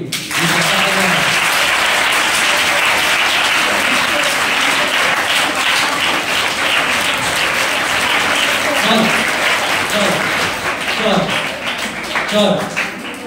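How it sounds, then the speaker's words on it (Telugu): An audience at a child abuse awareness program bursts into loud, dense applause that holds strong for over ten seconds before easing slightly, with some voices mixed into the clapping. "క్లాప్స్ కొట్టండి"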